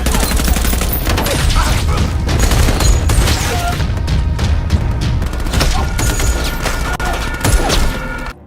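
Dense gunfire in a film shootout between soldiers and terrorists arriving by car, with rapid bursts and loud booms crowding together almost continuously, plus crashes and some muffled voices mixed in.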